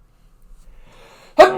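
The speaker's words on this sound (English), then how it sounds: "I have to sneeze." A single sudden, loud sneeze bursts out near the end after a stretch of quiet breathing and faint rustle, close to the microphone.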